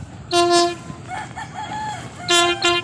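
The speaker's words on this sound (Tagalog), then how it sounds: "Ayan na po ang tren." A passing train's horn blares in two loud bursts, start and end, with a lower rumble and tonal hooting between them, fairly close beside the tracks.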